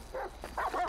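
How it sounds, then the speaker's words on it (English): Guard dog in the GTA V LSPDFR video game gives a quick pair of short, yelping barks, faint and slightly distant, lasting under a second. "Stupid guard dog."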